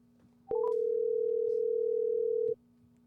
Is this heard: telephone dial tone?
yes